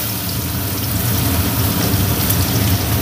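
Chopped onion and garlic hit hot oil in a home kitchen pan, sending up a loud, dense, continuous sizzling hiss that holds steady for the whole stretch.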